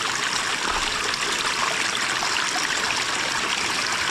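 Steady stream of water flowing and trickling from rocks, feeding irrigation for rice paddies; a constant, even rush close by with no voices.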